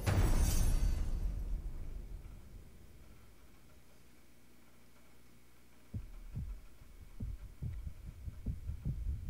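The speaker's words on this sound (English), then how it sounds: "is that my heart beating?" Heartbeat sound effect from the Modern Warfare 3 video game campaign, faint at first and then a steady rhythmic low thumping that grows more prominent after a brief burst of noise at the start.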